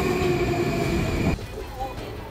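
Moscow metro subway train running loud and steady with a sustained tonal whine, then dropping sharply to quieter rumble with faint squeals as it slows at a station.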